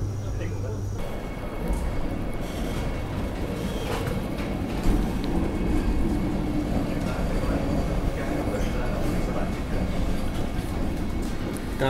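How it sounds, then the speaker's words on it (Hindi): Vande Bharat Express train arriving at Itarsi junction platform: a loud, steady low rumble and rolling of the carriages fills the whole stretch, heard from on board or nearby, with faint voices in the background. "इटारसी के प्लेटफॉर्म नंबर 4 पर अपनी वंदे भारत जो है वो पहुंच चुकी है।"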